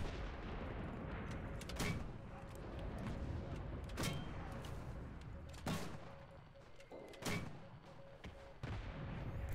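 Mortar rounds firing in a video game, several sharp booming launches spaced a couple of seconds apart over a steady low background rumble, fairly faint overall.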